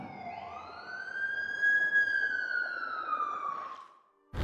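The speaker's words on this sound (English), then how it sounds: "That's the ambulance I called." Ambulance siren in The Amazing Spider-Man 2 PC video game, a single long rising and falling wail sweeping past loudly, fading near the end before a sharp sudden sound cuts in.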